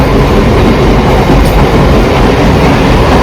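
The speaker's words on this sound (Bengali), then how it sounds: "পরোটা জন্য একটা ট্রেন চলে গেল" A passenger train rolls through a station at close range, its steady loud rumble and wheel clatter filling the whole stretch without pause.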